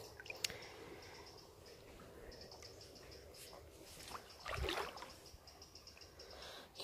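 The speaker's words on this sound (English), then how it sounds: "You can hear the birds in the background, water flowing." River water flowing softly in a quiet balmy evening setting, a faint steady trickle with insects chirping and birds calling in the background and a brief louder splash near the end.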